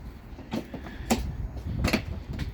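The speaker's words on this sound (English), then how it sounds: "We're going to open the door fully up." The front door of a 2022 Forest River Salem 27RK travel trailer swings open with a few close, sharp clacks and rattles of the latch and frame in a quiet interior.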